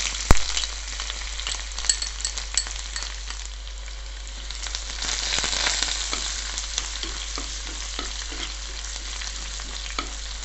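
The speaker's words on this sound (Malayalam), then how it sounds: "നമുക്കിനി ഈ ഇഞ്ചിയും വെളുത്തുള്ളിയും കൂടെ അരിഞ്ഞ് വെച്ചേക്കുന്നത് കൂടി ഇട്ട് കൊടുക്കാം." Chopped ginger and garlic with mustard seeds frying in hot oil for a Kerala fish curry, giving a steady crackling sizzle with scattered sharp pops throughout, close up and with no voices.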